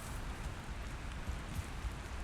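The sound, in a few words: rain in a video game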